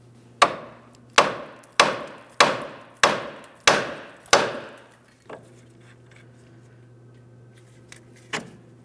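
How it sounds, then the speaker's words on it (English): Seven sharp metallic hammer taps on the steering knuckle of a 2003-2008 Toyota Matrix during outer tie rod replacement, in quick, steady succession, then two softer, sparser knocks after a pause, close up with a low hum underneath. "now we're going to use a hammer and lightly tap on the steering knuckle"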